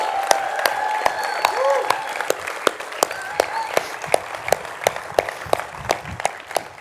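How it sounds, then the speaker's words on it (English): Audience at a graduation ceremony applauding and cheering the graduating students, a crowd of steady clapping with sharp individual claps standing out, a few shouts rising early on. "a huge cheer for our students once again"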